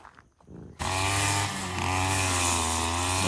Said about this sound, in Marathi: हे पहा मित्रांनो ग्रास कटिंगचं काम सुरू आहे